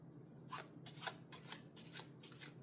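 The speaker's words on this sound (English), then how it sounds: "I'm going to give another shuffle" Several quick riffles of playing cards being shuffled, soft and close, in short bursts with brief pauses between.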